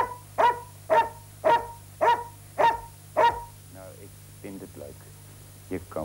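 A dog on a late-1980s Dutch television show barks six times in an even, steady rhythm, loud and close, followed by softer whimpering yips and a few faint sounds.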